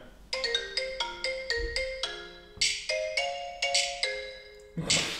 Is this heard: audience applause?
no